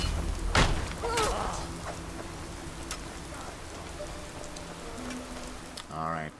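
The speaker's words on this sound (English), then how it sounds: "We've got to get out of this rain." Rain falls steadily in the video game The Pillars of the Earth... rather, TPOS2 with the Zdarra mod, a continuous close patter on surfaces with a few thuds and brief voice-like sounds over it.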